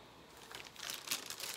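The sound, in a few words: opening plastic bag holding air purifier filter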